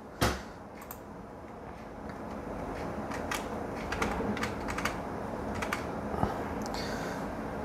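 Computer keyboard keys pressed for Windows shortcuts: a run of sharp, separate clicks and taps, some spaced and some in quick pairs, fairly close over a steady background hiss, with no talking.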